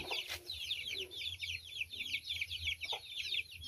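Backyard chickens clucking busily while they are fed, with rapid overlapping chatter from several birds nearby and no speech.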